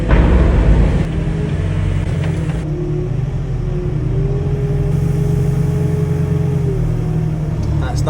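A Fendt tractor engine rumbles steadily at close range while the tractor shifts over near a shed's roller door, with a slight rise in pitch partway through.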